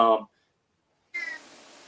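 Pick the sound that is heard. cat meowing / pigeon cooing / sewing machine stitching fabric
cat meowing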